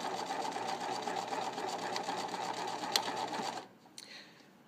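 Sewing machine stitching a plain seam in fabric, a fast, even, close whirring hum with a rapid needle rhythm that runs steadily, then stops near the end.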